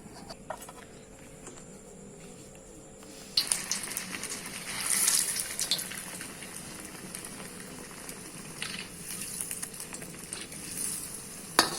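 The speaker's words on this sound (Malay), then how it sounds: "dia aiskrim goreng ni dia masak sekejap je" A hissing, crackling sizzle of ice cream deep-frying in hot oil. It starts quietly, jumps louder after a few seconds, then bubbles steadily with no talking.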